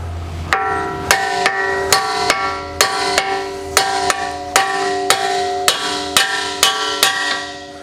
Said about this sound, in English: So when you smack it with a second hammer, it is not going to mushroom out the outside edges of your axle.